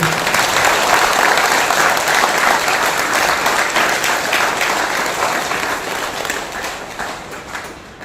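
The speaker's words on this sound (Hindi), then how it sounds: "हम सभी लोग एक दूसरे के लिए तालियां बजाएंगे क्योंकि हम लोगों ने आज बहुत अच्छा सेशन दिया।" Group of participants at a yoga and meditation camp in Kanpur clapping together after a session, loud sustained applause that gradually tapers toward the end.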